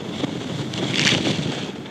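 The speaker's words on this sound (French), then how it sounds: "Le vent et la mer sont des musiques obsédantes dans cet univers violent." Wind roars and sea water rushes around the Groupama sailing boat racing around the world near the Antarctic, a dense, loud, continuous blast that swells midway.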